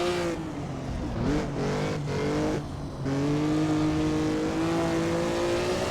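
A 1954 Formula One car at the Nürburgring in Assetto Corsa, its engine howling and dropping in pitch through downshifts under heavy braking, then revving back up, close and loud.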